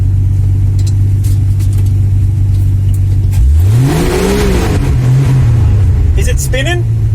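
A Ford XY Falcon 4x4 ute idles with a low rumble, then its engine revs hard, the pitch sweeping up and easing back as the wheels spin, loud and close, with people talking over it.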